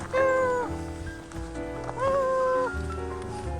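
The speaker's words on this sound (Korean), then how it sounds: "아, 앞에 고양이가 있어요" A feral cat on a mountain trail gives drawn-out, wavering meows, two long calls close by over rumbling wind and background noise while hikers are around.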